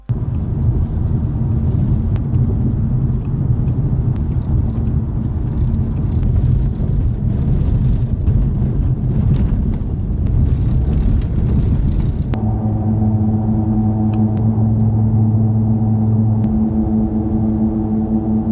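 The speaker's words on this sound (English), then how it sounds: "we recorded the regular, Runflat and seal tyre across 3 different surfaces so you can make your own mind up" Car tyres, regular, runflat and sealant types, roll over several road surfaces, producing a loud, continuous low road rumble and hum heard from inside, with the tone shifting noticeably partway through as the surface changes.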